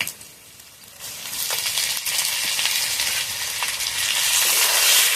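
Ginger-garlic paste fries in hot oil with potatoes and onions, a loud, close, continuous sizzle that swells after a quieter start and stays bright and hissing to the end.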